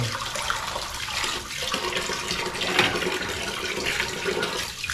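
Tap water runs steadily into a sink while freshly split fish are rinsed clean of blood, a continuous splashing hiss with slight surges of flow.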